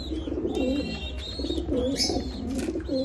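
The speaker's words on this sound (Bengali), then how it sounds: "আমার কবুতরগুলো শীতে মাশাআল্লাহ ভালোই আছে" Red Lahori pigeons coo in soft, rolling repeated phrases close by, with faint chirps and a low background hum.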